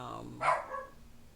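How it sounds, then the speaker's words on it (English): A dog barks once, a short sharp bark at moderate distance indoors, reacting to someone at the door or passing by, over a low steady room background. "somebody's at my door or walking by, he's barking."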